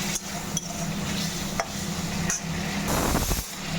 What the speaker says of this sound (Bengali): হালকা করে একটু আমরা ভেজে নিচ্ছি চিংড়ি মাছটা